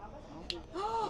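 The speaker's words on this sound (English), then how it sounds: "Snap your fingers." A single quick finger snap cracks out at a small gathering during a magic trick, brief and fairly close, with a voice starting to speak just after it.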